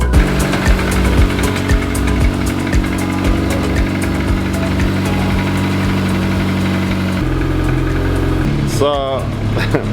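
A VW Caddy Mk1 pickup engine idles steadily close by, a continuous rough mechanical hum with a faint knocking tick, while a voice speaks near the end.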